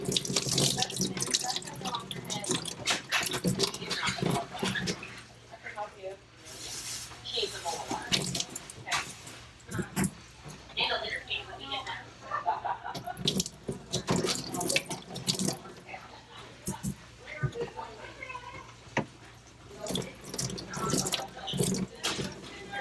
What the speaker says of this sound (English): we're going to go ahead and rinse them with cold distilled water